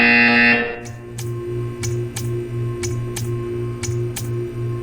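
A loud buzzer tone in Portal 2 cuts off, leaving a steady electronic hum with a regular ticking pulse repeating about every half second.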